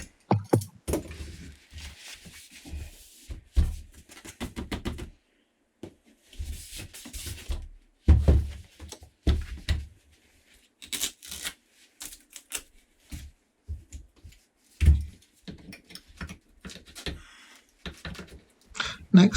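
Staples driven by hand into fine art canvas stretched over a wooden stretcher frame, a run of sharp, close clacks and thumps in irregular bursts with quiet gaps between them.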